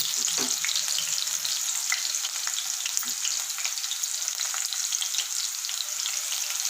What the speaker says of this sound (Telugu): బాగా చిటపటలాడినాయి